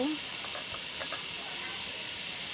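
Taro flowers and potatoes being stirred in a hot pan, a steady frying hiss with a few soft scrapes and clicks of a spatula near the start, close and moderately loud.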